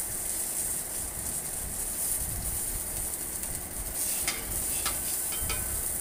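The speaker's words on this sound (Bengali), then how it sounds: "আমার বেগুন ভাজা প্রায় শেষ এটাকেও আমি নামিয়ে নেব" Continuous hissing sizzle of eggplant frying in a pan, with a few light clinks of a utensil near the end.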